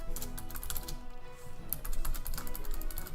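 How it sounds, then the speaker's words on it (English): Typing on a new computer keyboard clicks in quick, steady bursts close to the mic, the keystrokes continuing throughout without pause. "I got a new keyboard too. If you notice that it sounds a bit different."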